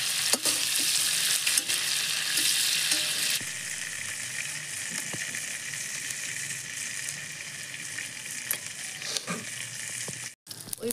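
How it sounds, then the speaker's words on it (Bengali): Prawns fry lightly in hot oil, a close, steady hiss and crackle that is loud at first, then eases to a softer sizzle with occasional stirring ticks and a brief break near the end. "বেশি ভাজা করে নিয়ে হালকা ভাজি নিচ্ছি"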